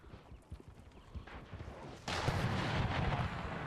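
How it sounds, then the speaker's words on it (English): Cannon fire in the video game Empire Total War: scattered muffled thumps, then a heavier sustained rumble of artillery booms, faint and distant, no voices. "You're an easy target for my cannon,"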